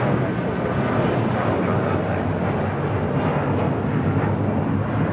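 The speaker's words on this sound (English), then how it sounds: "United Airlines 1069 taking off to Chicago O'Hare on a 757-300" A United Airlines Boeing 757-300 taking off at LAX, a loud, steady, broad jet engine roar that holds constant without voices.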